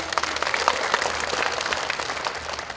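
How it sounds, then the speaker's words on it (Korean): An indoor audience at a political constituency report meeting applauds a speaker coming to the podium, dense continuous clapping filling the hall at steady loudness with no talking over it. "큰 박수로 맞아주시기 바랍니다."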